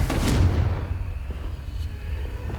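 The Confringo blasting spell erupts into a deep booming explosion in Hogwarts Legacy, strongest at the start and then rumbling away under a low, lingering tail.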